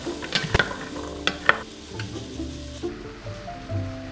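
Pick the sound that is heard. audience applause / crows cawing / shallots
shallots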